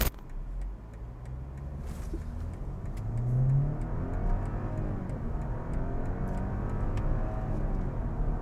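A BMW G22 420i M Sport with a 170 hp engine revs and accelerates steadily, its real engine sound with no speaker-generated sound, a continuous low rumble rising in pitch, close and fairly loud, with no talking.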